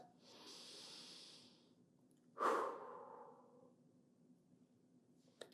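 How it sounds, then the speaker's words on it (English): One person takes a long, deep, audible breath, a soft airy inhale followed by a stronger, hissing exhale, close and quiet with near silence around it. "Let's take that collective deep breath."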